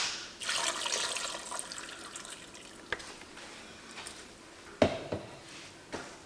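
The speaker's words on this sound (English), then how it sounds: "I think we'll add a little bit more water." Water poured into a pressure cooker holding pig feet, a splashing pour that starts sharply and trails off, followed by a few scattered drips, clinks and knocks at moderate loudness.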